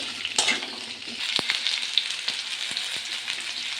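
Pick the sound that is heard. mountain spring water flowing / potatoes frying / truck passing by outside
potatoes frying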